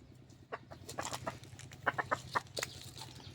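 Hatch cross gamefowl cluck in short bursts at close range, a run of quick clucks and low murmurs over a soft background hum, with no one speaking.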